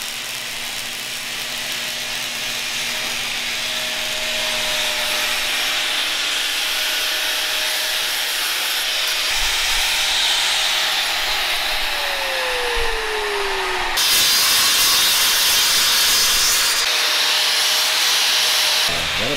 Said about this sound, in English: So, I think we run a little weld across it, grind it down.